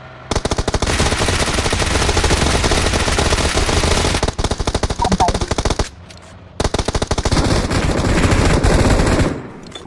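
Automatic gunfire in the video game PUBG Mobile, loud rapid bursts of shots running for several seconds, with a brief gap before another long burst, close and dominant.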